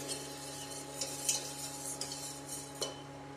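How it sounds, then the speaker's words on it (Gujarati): A utensil scrapes and clinks against a pot on a gas stove while papad dough is stirred and heated, soft irregular taps over a low steady hum, quiet and close, no talk. "ગેસ ચાલુ કરીશું અને આને આપણે ચડાવી દઈશું અને આને ચલાવતા જ રહેવાનું છે આપણે"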